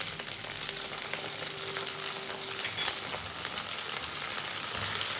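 Poppy seed paste fries on a very low flame, giving a steady, soft, continuous sizzle with a faint crackle throughout and no talking.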